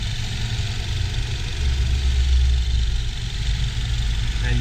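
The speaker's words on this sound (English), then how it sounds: "And this is your EcoBoost engine." A Ford Mustang EcoBoost engine fitted with an Airaid cold air intake idles close by, a steady, loud, low rumble with a slight swell in the middle and no talking.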